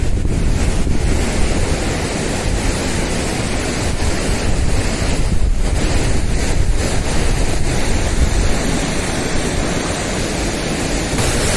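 The Rishiganga waterfall on the route to Badrinath roars in a constant, loud, broadband rush, mixed with gusts of cold evening wind buffeting the microphone, with no voices.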